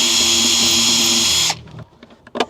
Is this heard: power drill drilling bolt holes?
yes